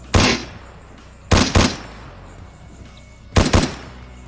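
Three separate bursts of gunfire in a sniper shooter game, each a loud pair of sharp cracks with short decays, spaced about a second or two apart over a quiet background.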